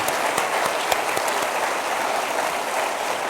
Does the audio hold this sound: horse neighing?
no